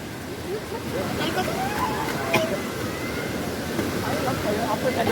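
A crowded waterfall near Malgund and Nivendi on a busy Sunday, its steady roar of rushing, splashing water filling the whole scene, with a faint hubbub of many people in the background.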